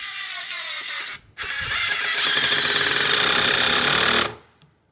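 A DeWalt DCF870 quiet hydraulic impact driver runs in two close, steady bursts while driving screws, giving a soft whirring hum, a brief pause, then a longer sustained run that winds down.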